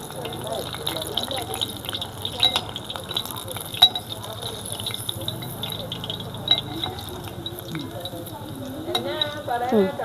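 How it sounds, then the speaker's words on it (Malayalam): Chili fritters (mulak bajji) fry in oil and are stirred, a soft bubbling sizzle with light utensil clicks, while someone talks over it at intervals. "നമുക്കിനി ചെറുതായിട്ടൊന്ന് ഇളക്കി കൊടുക്കാം ഇത് മറിക്കാൻ ഇച്ചിരി പാടാണ് കേട്ടോ"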